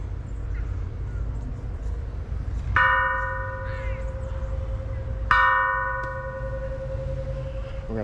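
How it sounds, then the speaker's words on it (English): The Friendship Bell in Victoria, British Columbia, struck twice a few seconds apart, each clang ringing out loud and bright with a long humming decay over steady outdoor waterfront background noise. "Here's the Friendship Bell."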